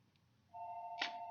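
A telephone rings during a paranormal investigators' live broadcast: a steady electronic tone with a sharper burst near the end, fairly quiet against low background hum, with no talking.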